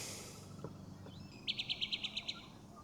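An outdoor bird with a view of mountain ranges gives a quick run of about eight bright, evenly spaced chirps, clear above a quiet background after a faint earlier call.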